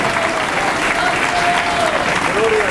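A church congregation at a convention applauds loudly and steadily, dense clapping filling the space, with a voice faintly carrying over it in places.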